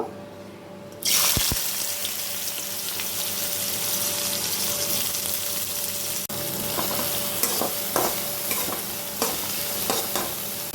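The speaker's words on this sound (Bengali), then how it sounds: "এবার আমি এখানে আগে উচ্ছেগুলোকে একটু হালকা করে ভেজে নেব" Bitter gourd pieces hit hot mustard oil in a kadai and burst into loud, steady sizzling, with scraping and clattering stirring sounds breaking through the frying up close.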